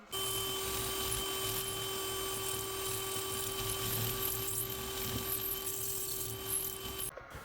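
A steady high-pitched whine of a spinning tool runs almost continuously, with faint scraping as a cutter made from a chainsaw file turns grooves into the material.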